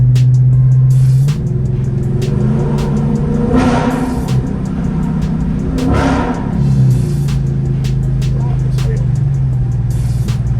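Car engine and exhaust fitted with factory mufflers and resonators, a loud, steady, close drone that swells twice as the engine works harder, heard while driving under a bridge.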